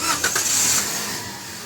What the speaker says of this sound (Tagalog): ipa-start ko itong makina.